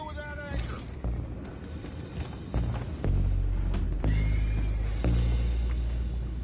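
Horses in Red Dead Redemption 2 neighing with high whinnies over clip-clopping hooves and rumbling game ambience, several calls across a few seconds, with loud booming thuds building toward the end.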